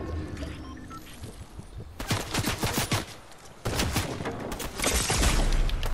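Rapid bursts of gunfire in a Fortnite ranked match, loud and close, with repeated volleys of crackling shots coming in waves across the stretch.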